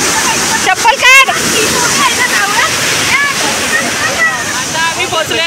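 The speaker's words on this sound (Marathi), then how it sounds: "खूप मोठा धबधबा आहे." A large waterfall roars in a steady, loud wash of rushing and splashing water, with voices and shouts talking over it close by.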